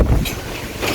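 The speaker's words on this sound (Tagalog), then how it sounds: "Oh, lakas ng hangin." Strong gusty wind buffets the microphone outdoors at a plant garden, a loud, steady rumbling roar that swells at the start and again near the end of the second, with no talking.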